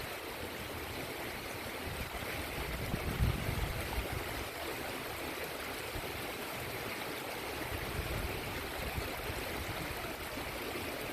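Creek water flows steadily and broadly in a Missouri stream running a little high, a continuous close rushing wash with no voices over it.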